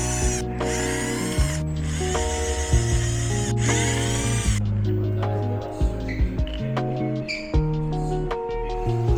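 Power tool working loose the bolts on a Harley Davidson handlebar and dash mount, a close, whining mechanical buzz that rises and falls in pitch with short gaps and rattling spins between runs.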